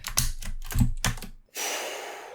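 Slime is pressed and pulled across a computer keyboard, giving a few soft squelching, clicky presses in quick bursts, followed by a brief pause and then a steady faint rustling.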